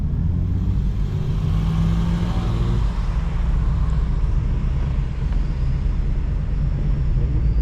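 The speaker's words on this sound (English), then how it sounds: "Oh, they racing." Cars racing at a car meet, a continuous loud roar of engines and tires from nearby, with no breaks over several seconds.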